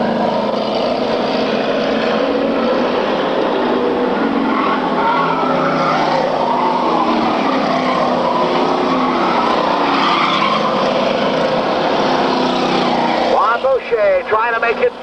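Street stock race cars roar around the track, with loud overlapping engines and droning revs throughout, and an announcer talks over the racing.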